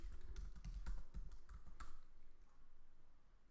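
Short run of keystrokes on a computer keyboard as a shell command is typed, crisp clicks clustered in the first two seconds and then fading into a quiet hum.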